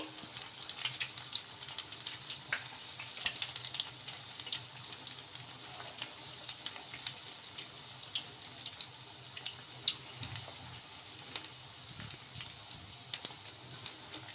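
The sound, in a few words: semiya bondas deep-frying in oil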